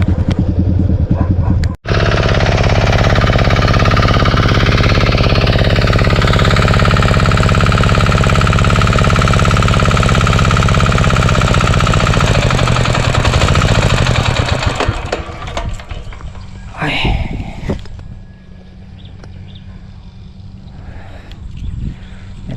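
A loud engine runs steadily at close range with a constant droning vibration, then is switched off about two-thirds of the way through, and its roar fades to a much quieter background.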